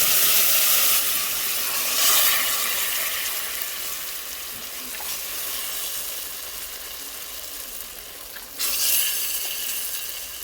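Lentils tipped into a pan of browned frying onions give off a steady bright sizzle with soft stirring scrapes, swelling louder near the start and again toward the end, with no voices.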